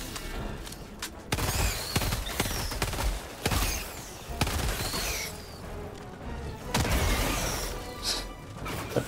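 A grenade goes off in Helldivers 2 amid loud battle noise, with several sharp blasts and crashes spread across a busy, moderately loud combat scene.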